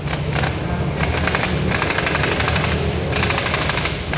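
An impact wrench works on the front shock absorber of a Yamaha XMAX scooter, hammering in loud, continuous rapid bursts close by with brief shifts in intensity and no talk.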